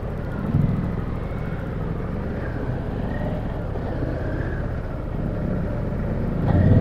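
A Harley-Davidson Pan America motorcycle rides off road in second gear, its engine a steady, close, rumbling drone that holds an even level and swells slightly at the very end.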